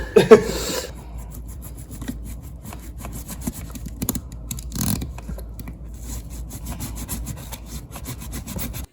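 A freshly sharpened knife cutting during a Porsche 911 roll cage install, with steady rhythmic rasping strokes after a sharp clatter at the start, close and fairly loud with no voices.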